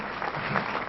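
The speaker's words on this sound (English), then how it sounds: "And I just thought we should give him a very big round of applause." A crowd at a formal launch event in Lagos applauds, a brief dense wash of clapping heard from within the hall.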